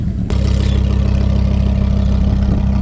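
A purple Lamborghini Huracan's engine idles close by, a steady loud low rumble with a fast even pulse after a brief quieter start.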